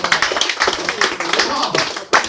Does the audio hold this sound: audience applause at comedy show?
yes